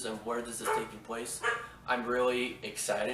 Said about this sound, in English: Pardon my dog, he's barking.